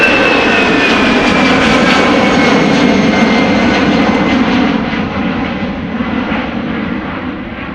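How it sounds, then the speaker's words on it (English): An EasyJet Airbus A319 departs Amsterdam Schiphol Airport bound for London Gatwick, its jet engines producing a loud, steady roar with a whining tone that fades slowly toward the end. "going to London Gatwick, EasyJet A319"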